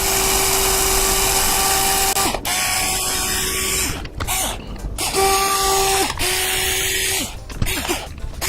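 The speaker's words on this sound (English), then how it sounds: "we're going to drill this hole through" A power drill whines steadily, its pitch dropping and rising as it bores a hole through a wooden deck, with brief pauses between bursts of drilling.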